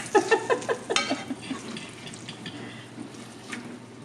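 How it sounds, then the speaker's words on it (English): Tortillas sizzle and crackle in a pan, with a few sharp clatters and scrapes early on before settling into a steady, soft frying hiss. "I am frying the rest of the tortillas."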